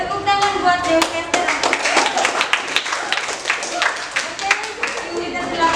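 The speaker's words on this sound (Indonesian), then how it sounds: "tepuk tangan buat DPS" Students in an Indonesian eighth-grade language class clap for a classmate's presentation, a dense run of hand claps up close with a few voices mixed in.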